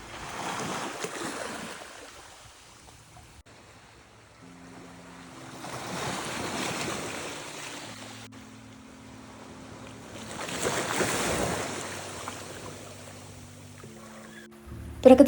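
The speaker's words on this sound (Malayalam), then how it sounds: "തിരകളൊക്കെ കുറച്ചും കൂടെ മേലോട്ട് കയറി വരാൻ തുടങ്ങിയിട്ടുണ്ട്." Sea waves wash ashore at El Dorado beach on Havelock Island, each surge swelling and fading in slow rolling cycles, with a faint low tonal hum beneath and no speech.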